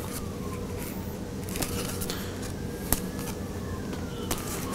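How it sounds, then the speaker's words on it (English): Faint sirens wail in the distance beneath steady background noise, with a few scattered clicks and knocks nearby. "if you hear all the sirens in the background"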